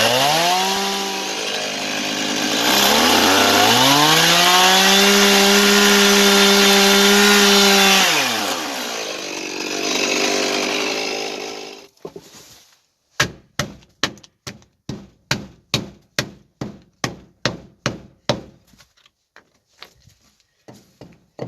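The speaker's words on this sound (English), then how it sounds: "I'll get the chainsaw ready." A petrol chainsaw roars loudly and steadily as it cuts timber logs for a shed build, its pitch dipping and rising under load. It then cuts off, and a long run of sharp, evenly spaced knocks follows.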